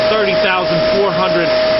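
A canister vacuum cleaner running, a steady loud whirring motor drone with a constant high tone, close to the microphone, with a voice talking over it.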